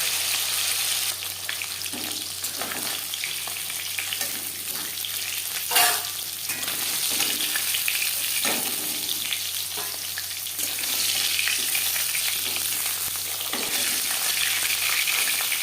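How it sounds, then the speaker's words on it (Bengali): Rui fish pieces frying in hot oil, a steady loud sizzle throughout with occasional bursts and spatters, close up and with no talking. "একটা সাইড ভাজা হয়ে গেলে অপর সাইডটা উল্টে দেবো"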